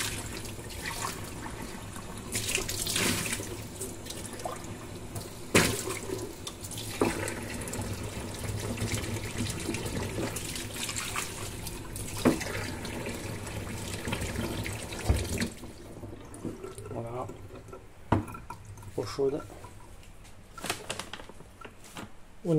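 Hot water running from a tap onto laundry detergent, a steady rushing flow with knocks and clatters from handling, then quieter splashes as the flow eases.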